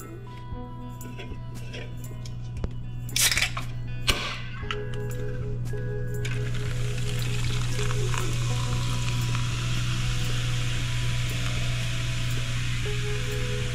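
Burger patties fry in oil with a steady close sizzle and crackle, a low constant hum underneath, a few clinks and scrapes early on as they are flipped, and the sizzle swells louder midway and holds.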